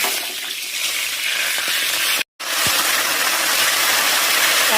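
Cumin seeds sizzling in hot, reddened oil while a Bengali fish curry is cooked: a steady, loud, broadband hiss and crackle that breaks off briefly and then resumes as strongly as before.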